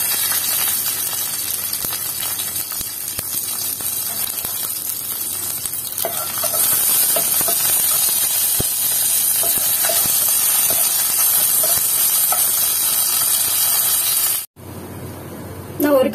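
Cashews, curry leaves and a torn dried chili sizzle in hot oil for a tempering, a steady loud frying hiss with faint stirring taps, cut off abruptly near the end.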